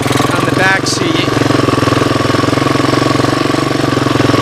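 A 1985 Honda 250ES engine runs after years of hibernation on a portable CDI box, a loud, steady rapid chugging with even pulses throughout, a brief voice-like chirp near the start.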